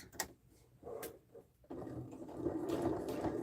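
A sewing machine stitches patchwork fabric for a duffle bag, starting with a few soft clicks and short bursts before running into a steadier whirring stitch that grows louder toward the end.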